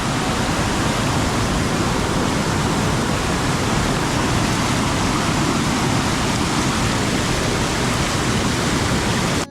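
Kajali river in flood during heavy rain, a loud, dense and unbroken roar of rushing water that fills the whole clip at close range, with no voices.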